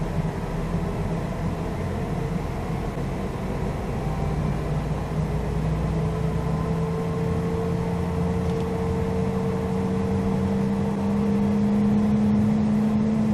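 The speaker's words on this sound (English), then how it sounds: "Start engine 1. Engaging starter." A Cessna CJ4 business jet engine spooling up during start in a flight simulator, a steady whine and hum that climbs gradually in pitch over several seconds, with no voices.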